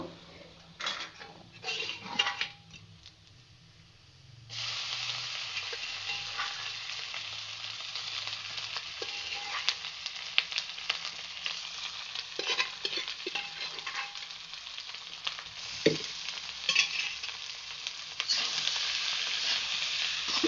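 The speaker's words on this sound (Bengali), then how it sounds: "মাংস দেওয়া হয়ে গেছে এবার আমি আস্তে আস্তে করে মিডিয়াম জালে এটাকে নাড়াচাড়া করব" Beef fried and stirred with browned onions over medium heat. A steady, close sizzle runs throughout, with occasional spoon scrapes and clinks against the pan and no voices.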